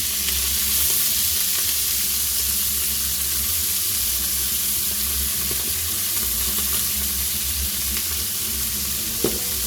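Asparagus fries in a hot pan, giving a loud, steady, close sizzle that runs throughout with faint stirring and a small clink near the end.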